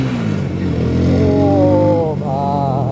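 A motorcycle engine runs loud and close, with its pitch climbing and wavering as it revs, while faint voices can be heard underneath.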